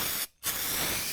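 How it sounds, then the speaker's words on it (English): A spray gun sprays car paint onto a bonnet, a steady close hiss that breaks off for a moment and then resumes, continuing to the end. "make sure you've got good spraying"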